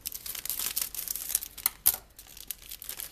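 Packaging being cut open while making brown sugar body scrub gifts in jars: a quiet run of crinkling and tearing plastic with a few sharp snips, close by and with no talk.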